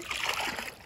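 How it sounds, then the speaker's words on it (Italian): Fishing bait dropped from a bucket into the water while setting lines for catfish, giving a short, close splash and slosh that fades within a second. "e via la nostra esca in acqua"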